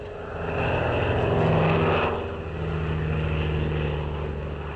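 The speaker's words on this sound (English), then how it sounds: "a tiny racing monoplane that's perfect for high-speed aerobatics" A tiny racing monoplane's propeller engine drones steadily during high-speed aerobatics, swelling louder as it passes close, then settling back to a sustained hum.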